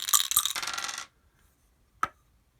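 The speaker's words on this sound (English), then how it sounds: "so we're going to roll 2 dice" Two dice tumble across a tabletop in an APBA hockey board game: a loud clattering roll lasting about a second, then silence and one last sharp tap as a die settles, close and without talk.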